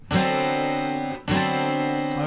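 A twelve-string guitar plays a blues chord that slides up to D, strummed twice in succession, each shimmering, rich chord ringing out for about a second with no voice over it.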